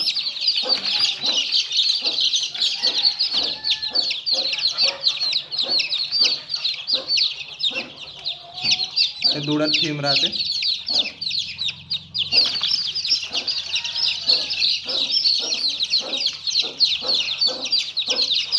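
Village chicks kept in a tub after vaccination peep constantly in a dense, high-pitched chorus close by, with brief clucks and a short stretch of someone talking in the middle.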